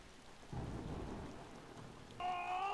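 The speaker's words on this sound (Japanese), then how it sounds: "ああ、外は雨降ってる。" Rain and a low rumble of thunder fill a horror video game, a steady soft downpour with a swelling roll of thunder, then a brief tonal electronic sound at the end, no voices.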